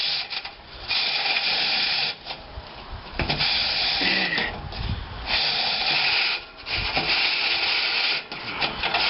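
Chimney sweep brush on fiberglass poles scraping down inside a six-inch chimney flue, harsh rhythmic rasping strokes with brief pauses between pushes, close and loud.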